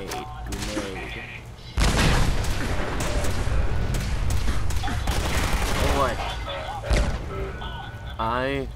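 Loud explosive booms and chaotic combat noise from grenades going off in the video game Fallout 4, continuing dense and forceful while someone repeatedly talks over the action.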